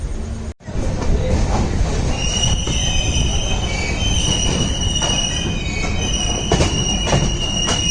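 The Dadar Tirunelveli Express pulls out of Madgaon Junction on the Konkan line in the rain, with a steady loud rumble of rolling wagons, high wheel squeal and scattered rail clicks after a brief gap near the start.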